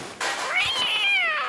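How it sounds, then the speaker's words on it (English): A Harmonized Meow stream alert plays: a single drawn-out, layered cat meow with gliding pitch, loud and close, lasting just over a second. "Thank you for redeeming Harmonized Meow and scaring me."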